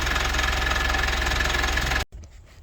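A Halfords Rapid digital tyre inflator pumps up a tyre with a steady, loud, buzzing motor hum close by, then cuts off abruptly, followed by faint handling noises.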